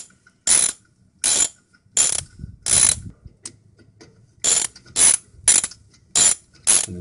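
A 7mm Allen key turns the brake caliper slide bolts on an Audi A4, giving about nine short, crisp bursts of ratcheting clicks with brief pauses between them, close and clear with no talking.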